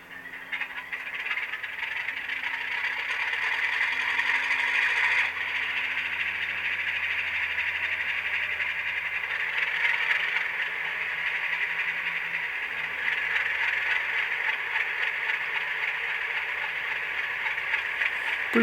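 Rapido HO scale RS-11 model locomotive with an ESU LokSound decoder playing its diesel prime mover sound: a steady, fairly quiet rattling engine drone with a light buzzing texture, running continuously from a small speaker.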